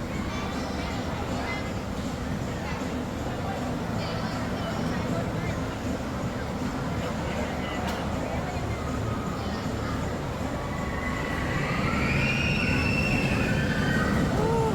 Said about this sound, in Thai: รถไฟมาแล้ว